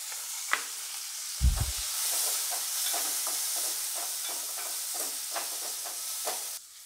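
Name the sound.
onions sautéing in a pan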